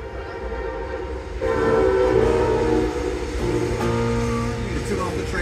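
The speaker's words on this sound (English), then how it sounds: "What key is that train in?" A train horn blows long, sustained tones that swell and hold for several seconds over rail rumble. It is heard near a kava bar where a band plays live.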